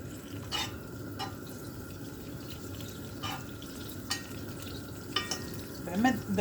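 Butter melting with olive oil in a pan gives a soft, steady sizzle with faint crackles. Occasional clinks of a utensil sound over it, and the sizzle stays close and gentle throughout.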